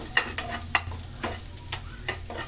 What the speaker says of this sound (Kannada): ಲೋ ಫ್ಲೇಮಲ್ಲಿ ಚೆನ್ನಾಗಿ ಫ್ರೈ ಮಾಡ್ಕೋಬೇಕು